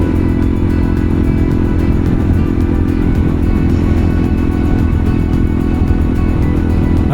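A motorcycle engine drones loud and steady while riding over loose sand, dirt and bumps on a rough trail near Big Horn slot canyon, with a continuous rumbling roar and rattling texture.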